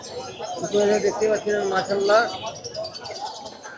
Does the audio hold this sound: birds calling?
yes